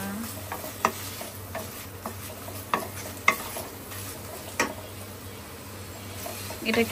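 Shredded chicken with liver frying in a pan, a low sizzle broken by sharp spatula taps and scrapes at irregular intervals, with a rattle of the pan near the end.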